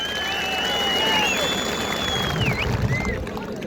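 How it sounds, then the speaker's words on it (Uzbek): Crowd applause at an outdoor kurash wrestling bout in Koson, Uzunquduq, a steady clapping wash heard under whistling tones and a voice. "Bir qarsak bo'lsa shu yigitga."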